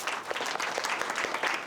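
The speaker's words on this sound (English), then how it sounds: "Big round of applause, guys." Audience applause at a Y Combinator batch founder demo day, as a founder is welcomed to the stage: steady, dense clapping from a crowd throughout, moderately loud and fairly close, with no speech over it.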